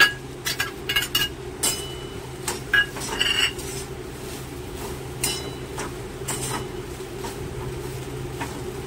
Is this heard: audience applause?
no